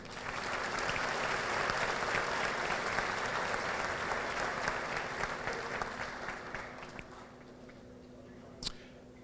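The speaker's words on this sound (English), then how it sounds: "One more round of applause for Ms. Carter." Audience at a graduation ceremony applauds steadily in a large hall, a dense wash of clapping that holds for most of the stretch, then slowly thins and fades, with a single sharp clap or knock near the end.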